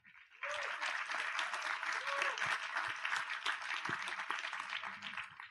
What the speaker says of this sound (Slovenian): prosim en aplavz še zanje